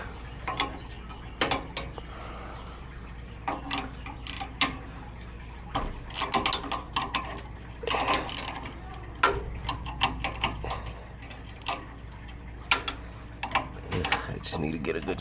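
A ratchet loosens a bolt on the front suspension of a Toyota Tacoma, producing bursts of rapid close clicking and metallic clanks spread irregularly across fifteen seconds, with faint voices at times.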